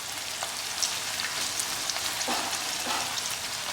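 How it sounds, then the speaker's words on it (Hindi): Onions frying in hot oil in a pan, a steady soft sizzle with faint crackles throughout, heard alone with no talking. "तेल हमारा गर्म हो चुका है। अब धीरे से हम ये प्याज इसमें डाल देते हैं।"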